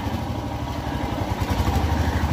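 A Royal Enfield motorcycle engine runs steadily nearby, a continuous low rumble with a faint rhythmic clatter and no speech over it.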